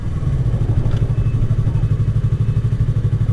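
A 300cc motorcycle engine drones steadily while riding, a loud, close, low pulsing hum with a faint rhythmic throb throughout and no voices.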